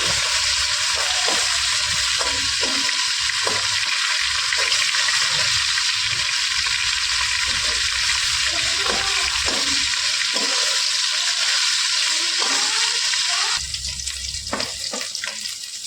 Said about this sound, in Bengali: মাছের এক ভাজা হয়ে গেছে এবারে অন্য পিঠটা ভাজার জন্য উল্টে দিচ্ছি